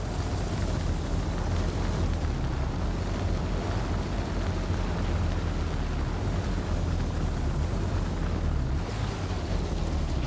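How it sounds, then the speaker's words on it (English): Helicopter gun run in Arma Reforger, a continuous dense roar of rotor, gunfire and explosions blending into a loud, rumbling wash throughout. "I'm doing a gun run on it now."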